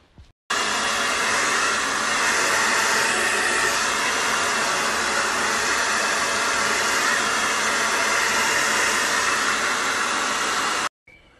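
A hair dryer blows continuously for about ten seconds while drying long hair, a loud, steady whooshing roar that starts and stops abruptly and has no talk over it.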